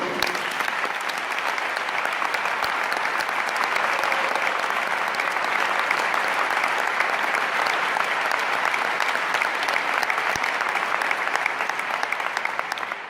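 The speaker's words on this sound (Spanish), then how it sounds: "Aplauso para Francisco Luengo." Sustained applause from a large audience at a concert in Oseira, dense and even, continuing for over ten seconds.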